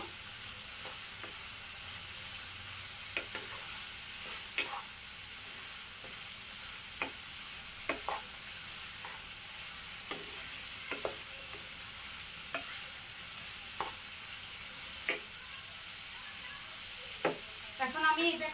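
Sea fish coated with turmeric stirred in a frying pan: a low continuous sizzle with regular spatula scrapes and taps every second or so, close and fairly quiet, with no voices.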